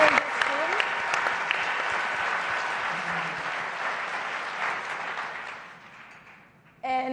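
A large forum audience claps for Jewish student leaders at an opening plenary, a sustained crowd ovation that gradually thins and fades toward the end before another sound cuts in abruptly.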